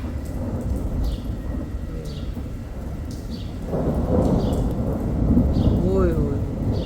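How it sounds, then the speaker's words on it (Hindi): Heavy rain pours steadily while thunder rumbles low and long, swelling louder partway through, with a voice faintly heard beneath the downpour. "बादल गरजे का देखना, ये बिजली चमकी है"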